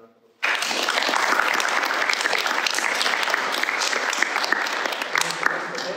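A school audience at a junior school music celebration breaks into loud, sustained applause for the students, the clapping starting abruptly after a brief quiet moment and continuing densely and evenly.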